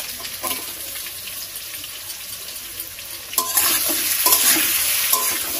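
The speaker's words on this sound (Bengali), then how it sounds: "এবারে আলুটা ভালো করে ভেজে নেব।" Boiled potatoes with salt and turmeric fry in oil in a pan in a village kitchen, a steady close sizzle that swells louder partway through as they are stirred.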